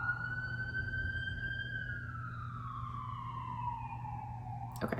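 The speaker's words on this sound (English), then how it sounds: "Sorry for these sirens going by." An emergency siren wails at a distance, its pitch sliding slowly downward as it passes, over a low steady hum.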